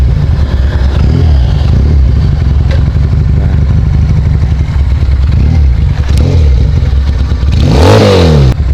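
Benelli Patagonian Eagle 250cc motorcycle engine running steadily up close, with a sharp rising rev near the end.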